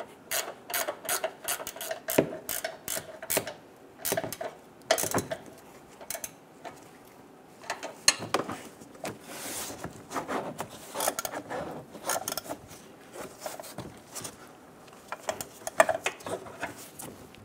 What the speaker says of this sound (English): Snug the nuts down.